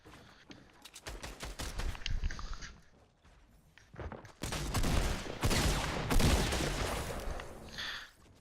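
Video game shotgun blasts fire in quick bursts of sharp reports, loud and close, with pauses between the volleys.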